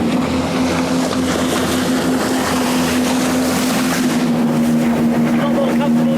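RNLI lifeboat engine with the throttle pulled back, a steady low hum over wind and water noise, continuous and fairly loud throughout with no words spoken.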